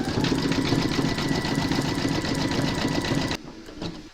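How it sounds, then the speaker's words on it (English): Embroidery sewing machine running a satin stitch around the border of a reindeer slipper's nose, a steady rapid mechanical whir and needle chatter up close that stops abruptly near the end, leaving a faint clunk. "you're going to stitch round number 16, and that's going to do the satin stitching around the border of the nose"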